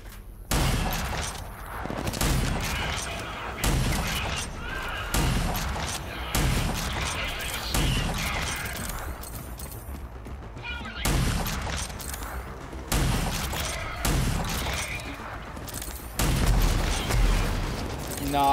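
Rapid bursts of gunfire and booming blasts in the video game RAGE 2 pile up in dense, repeated volleys throughout, loud and chaotic with little pause.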